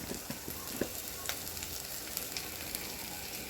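Onion and tomato fry in a pan for a cabbage kootu, giving a steady low sizzle with a few faint stirring scrapes, alone with no talk.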